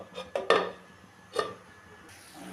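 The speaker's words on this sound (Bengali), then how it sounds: "একটা ঢাকা দিয়ে দেব।" A lid goes onto a cooking pot of vegetables simmering in water for chicken soup, giving a couple of sharp metallic clatters close by, then one more clink a moment later in a quiet kitchen.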